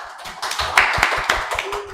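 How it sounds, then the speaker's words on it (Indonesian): A small group clapping during a casual talk-show recording, a brief, uneven patter of a few hands with distinct individual claps close by. "Tepuk tangan lo."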